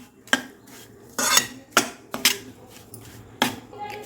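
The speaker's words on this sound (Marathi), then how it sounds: "आपण हे मिश्रण सगळं मिक्स करून घेऊ" A metal spoon stirs a hot cardamom mixture in a kadhai on the stove, giving sharp, irregular clinks and scrapes against the pan, close and distinct over quiet background.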